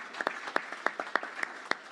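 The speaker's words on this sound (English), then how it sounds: "we'll do a final warm round of applause for all the presenters" Audience applause for presenters at a technology and innovation speed pitch session, heard as sparse, separate claps in a thin, fairly quiet round.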